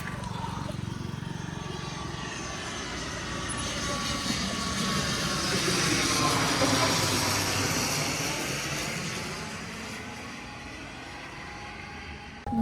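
Airplanes flying low overhead near the airport on Koh Samui, Thailand, a broad steady engine roar that swells and then slowly fades, loud and sustained with a faint outdoor background.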